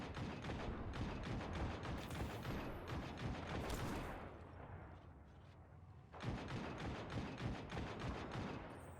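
Dense, sustained gunfire from the Destiny 2 video game, rapid overlapping shots that ease off briefly midway and then return at full intensity, loud and continuous with no talking.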